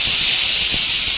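A pressure cooker on the stove, cooking rice, lets out a loud, continuous hiss of escaping steam close by, steady and unbroken throughout.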